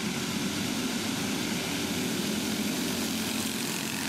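A small rebuilt go-kart engine with new rings drones steadily and continuously at a distance during a backyard race heat, a broad even roar with no voices.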